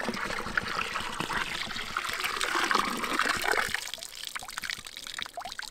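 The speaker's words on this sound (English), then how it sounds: "We're just gonna use that to refill the jug." Water pours in a steady trickle from one jug into another at an off-grid cabin, close and gurgling before easing off toward the end.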